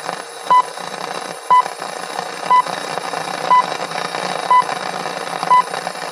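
Six short, evenly spaced time-signal pips sound once per second over a steady background hum on Radio România Actualități, each pip a brief pure tone.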